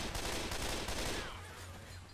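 Rapid bursts of AK rifle fire in the zombie shooter Left 4 Dead 2 crackle in a quick volley of shots, fairly quiet and fading into a lingering tail, with no talk over it.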